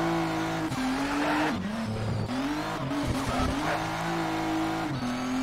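A modded car racing in Shift 2 Unleashed, its engine droning loud and steady with rising and falling revs through gear changes, plus bursts of tire squeal and skidding.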